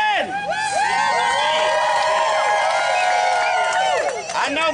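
Crowd at a live concert cheering and whooping loudly, a dense sustained roar of many voices with high shouts rising throughout, steady for several seconds before tapering near the end.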